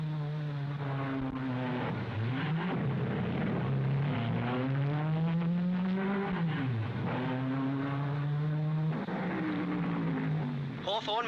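1955 Formula 1 race cars at the Monaco Grand Prix, including a Vanwall and a Ferrari, scream past in turns, engine pitch sweeping up and down as they pass, loud and rising and falling over several passes.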